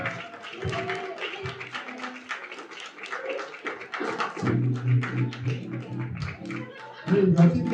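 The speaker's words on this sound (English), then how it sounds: "can y'all please clap it up right now? Start clapping right now for Sean" An audience claps for Sean Parker at a spoken-word poetry show, a scattered patter of hands running beneath a voice and growing louder toward the end.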